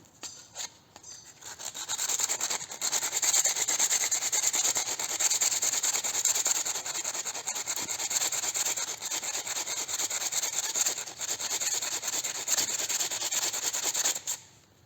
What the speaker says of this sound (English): I've sanded the crap out of that for, you know, another half a minute with like 80 grit